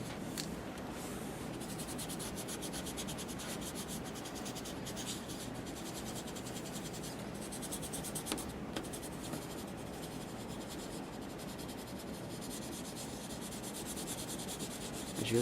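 Steady soft scratching and rubbing of pencil graphite being smoothed across paper in a perspective drawing of clouds, a close, continuous dry friction texture with no talk.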